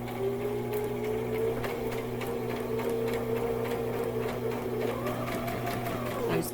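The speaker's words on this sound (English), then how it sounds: "And sew this one side. Put on my back stitch." A sewing machine hums and chatters steadily while sewing a back stitch along a fabric edge, one continuous close run with a faint shift in pitch near the end.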